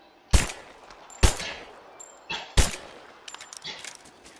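Gunfire in the Rise of the Tomb Raider video game as pumpkins are shot: four sharp, loud reports spaced about a second apart, the last followed by smaller clattering hits.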